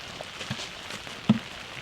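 Rain falls outdoors in the Maine wilderness, a faint soft patter with a few scattered drops tapping on a surface, no voices.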